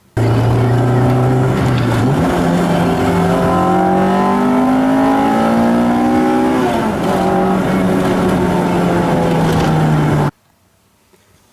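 An Acura Integra engine revs hard toward the top of its range, a loud, close mechanical wail that climbs in pitch, drops briefly at a shift, climbs again, then holds high before cutting off suddenly near the end.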